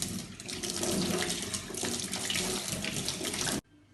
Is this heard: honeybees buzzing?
no